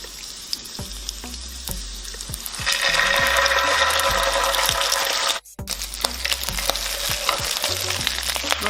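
Garlic and chili paste fry in a hot pan with a steady sizzle that jumps louder partway through, broken by a brief drop and scattered stirring clicks and scrapes, with no talking.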